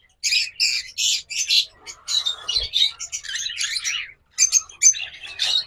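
Pet lovebirds or cockatiels kept for sale squawk and chirp shrilly up close, in busy bursts of repeated calls with brief gaps.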